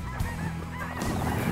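A flock of geese honks steadily, overlapping calls ringing out loudly with no talking, with cranes nearby.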